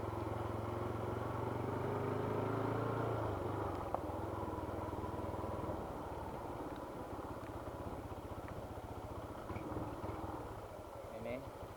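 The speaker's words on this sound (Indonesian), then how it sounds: "saya menggunakan motor Scorpio yang kapasitas 225 cc lewat jalur ini ya teman-teman." A 225 cc Scorpio motorcycle rides along a badly damaged rural road in Soppeng, South Sulawesi, its engine a steady, faint low drone with rumbling from the rough surface, while someone talks over it.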